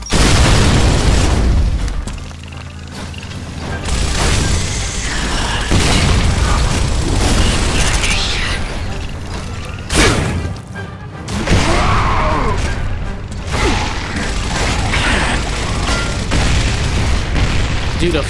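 Frag grenades and heavy gunfire boom in the Gears of War video game, with repeated loud, close explosions and crashes over an unbroken roar of combat, and game voices heard intermittently.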